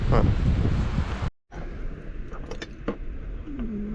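Strong wind buffets the microphone with a loud, roaring rumble, cut by a brief dropout, while people talk faintly underneath.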